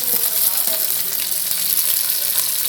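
Onions, tomatoes and mutton bones sauté in a pan with a loud, steady, close hissing sizzle throughout, broken only by faint stirring scrapes.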